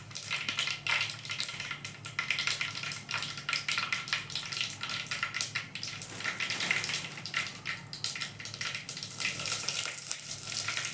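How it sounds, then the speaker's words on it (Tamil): Mustard seeds crackle and spit in hot oil, a busy, uneven spattering of sharp pops over a steady sizzle, close by with no voices. "வெங்காயம் தாளிக்கிறதுக்கு கடுகு வெடிக்கட்டும்"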